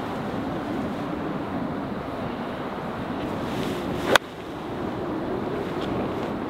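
Steady wind buffeting the microphone on a golf course at Ashburnham Golf Club, a constant rough rush with one sharp click partway through and no talking.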